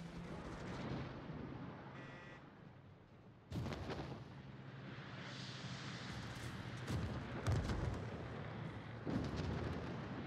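Naval gunfire striking a ship in World of Warships, heavy booming shell blasts and rumbling impacts, with a loud hit near three and a half seconds and more thudding blasts later, under continuous battle noise.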